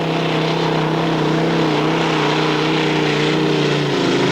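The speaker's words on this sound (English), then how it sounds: "off and on with the throttle, wandering all over the track" A tractor-pulling machine's engine roars continuously at high revs on a track at a 1996 European pulling event in Hörby, Sweden, a loud, steady droning with a sustained low tone that dips slightly near the end.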